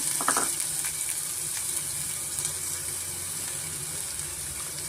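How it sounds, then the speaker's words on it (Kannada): Onions frying in a few spoons of oil in a pan, a steady bright sizzle that holds at an even level throughout with a few faint clinks near the start and no talk. "ಮೊದಲಿಗೆ ಒಂದು ಬಾಂಡೆ ಇಟ್ಕೊಂಡು ಸುಮಾರು ಒಂದು ಎರಡರಿಂದ ಮೂರು ಸ್ಪೂನ್ ಆಗಷ್ಟು ಎಣ್ಣೆ ಸೇರಿಸ್ಕೊಳ್ಳೋಣ ನಾವು ಇವಾಗ ಇದಕ್ಕೆ ನಾನು ಈರುಳ್ಳಿ ಸೇರಿಸ್ಕೊಳ್ತಾ ಇದ್ದೀನಿ"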